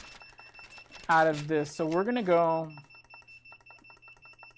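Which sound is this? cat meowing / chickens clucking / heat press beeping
heat press beeping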